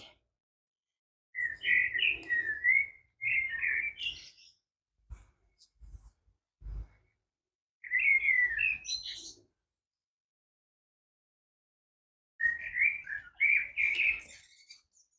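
Small birds chirp and tweet in several short bursts of bright, quick calls separated by silent gaps, with a few low thumps in between and no talking.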